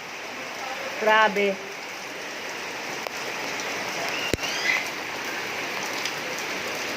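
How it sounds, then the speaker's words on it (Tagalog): Heavy rain pours down during flooding, a dense, steady hiss of drops that fills the whole stretch, with a short exclamation from a voice early on and a faint click later. "Grabe ang ulan."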